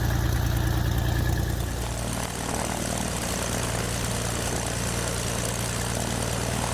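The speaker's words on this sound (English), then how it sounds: "First it was running on 4 cylinders and now on 6. Beautiful idle." A Saab Safir light aircraft's piston engine idles steadily on all six cylinders, a loud, continuous close-range drone with a throbbing propeller beat that smooths out after the first couple of seconds.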